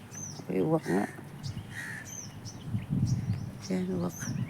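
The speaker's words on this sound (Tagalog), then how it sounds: "Ay, uwak nga." Crow cawing in a park, several harsh repeated caws standing out against quiet outdoor background noise, with other birds chirping faintly around them.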